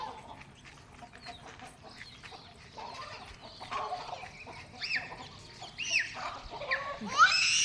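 Hens cluck while heading off toward their chicks, a scattered run of short calls that grows louder and busier toward the end over a quiet background.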